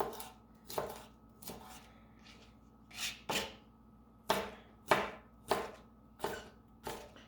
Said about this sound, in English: And I just chop them fairly small.